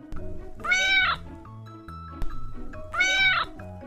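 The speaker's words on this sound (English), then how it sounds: "Cat says meow." Two drawn-out cat meows, loud and close, separated by a quieter pause with a low background hum.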